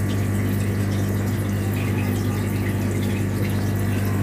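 Steady pump and running water hum during a home aquarium water change, a continuous even wash of flowing liquid and motor drone close by, with no talking.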